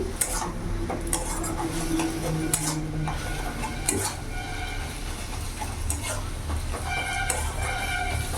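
A metal spatula presses and scrapes fried eggplant and bathua greens around a cooking pan over a gas flame, giving repeated clinks and scrapes over a steady background hiss.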